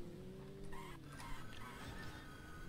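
A chicken clucks within the city streets of GTA London 1969, fairly faint and set in a busy hum of game ambience and traffic-like noise, with no voices over it.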